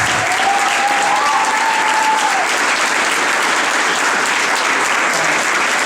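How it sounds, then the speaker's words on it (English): A dinner crowd at an evening banquet for the St. Louis Rock & Roll Marathon breaks into loud, sustained applause, an even roar of clapping from many people with a faint whistle-like tone early on. "big round of applause"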